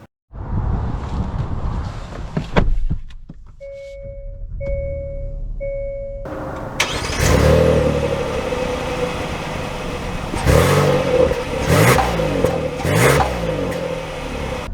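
2023 Hyundai Palisade Calligraphy pulling away, opening with a door thud and three chime tones, then a steady engine drone with road and wind rush rising in surges as it sets off.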